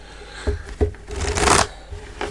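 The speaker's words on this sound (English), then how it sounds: "let's just shuffle the cards" Tarot cards riffle and slap in a few quick bursts, close up, building to a longer shuffle before a final soft tap.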